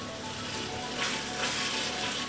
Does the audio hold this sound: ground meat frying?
yes